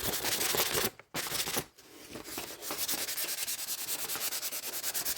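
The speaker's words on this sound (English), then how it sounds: "you're just going to sand. You're going to sand all that off. You're going to get right down to the surface." Sandpaper rubs against an old woodworking chisel during restoration, giving close, gritty scratching. It begins as continuous rubbing, pauses briefly twice, then settles into steady rhythmic back-and-forth strokes.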